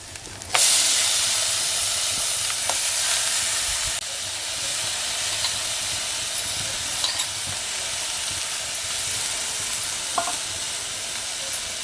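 Water poured into a hot pan of tempered spices and dried fish for a Konkani breakfast dish bursts into a loud, steady hiss and sizzle, settling into continuous bubbling with occasional clinks of stirring.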